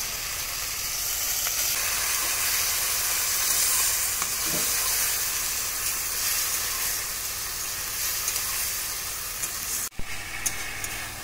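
Spiced vegetables sizzling loudly in a pan for a rui fish curry, with a sharp burst of hissing as a little water is added near the end, then frying continuing.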